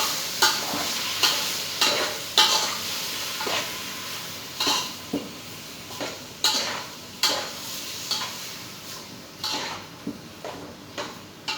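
Fresh squid being stirred in a pan for Filipino adobo, with repeated sharp utensil scrapes and taps against the pan every second or so over a steady sizzle, close and clear.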